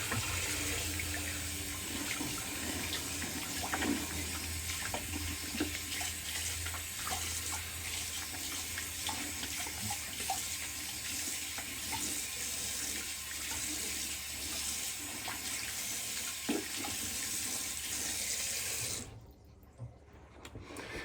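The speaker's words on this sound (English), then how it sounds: "I'll add them off with cold water" Cold tap water runs steadily into a sink after a wet shave, with a constant rushing splash, close by and uninterrupted, then the flow is shut off near the end.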